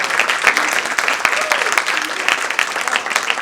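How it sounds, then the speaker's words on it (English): An event audience breaks into dense, continuous applause, many hands clapping at once in a steady wash, with a voice faintly audible beneath the clapping. "I want you all to give yourselves a big round of applause"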